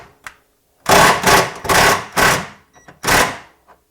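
Heavy hammer blows drive bolts out of a rear upper control arm on a 2002-2007 Jeep Liberty, four or five loud metallic strikes in an irregular rhythm with brief gaps and a few lighter taps between them.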